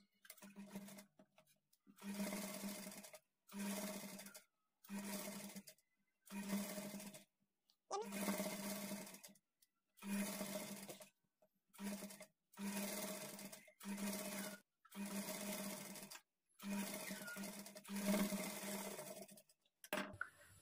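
A sewing machine stitches a hemming strip on a high-neck blouse in repeated bursts of about a second each, separated by short pauses, steady and close with no voices.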